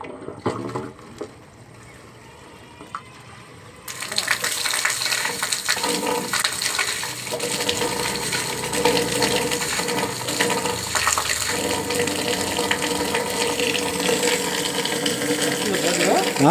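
Water gushes steadily from a pipe fed by a household tank, a broad loud rush that bursts in after a quieter start and keeps flowing strongly to the end.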